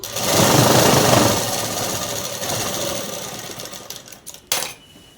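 Sewing machine stitching cloth for a midi dress, a loud, close, continuous rapid whirring hum that eases slightly, then stops with a brief clatter near the end.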